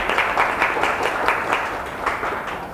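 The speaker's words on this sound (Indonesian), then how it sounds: "Wah, tepuk tangan dulu dong." Warm, moderately dense applause from a talk show audience at a palm oil industry corner event, many hands clapping steadily at close range with no speech over it.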